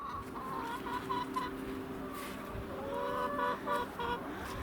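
Several chickens clucking and murmuring close by, a steady busy chatter with occasional louder squawks over faint outdoor background.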